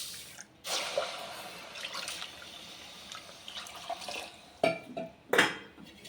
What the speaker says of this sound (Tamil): அதே மாதிரி 2 கப்பு தண்ணி ஊற்றிக்க.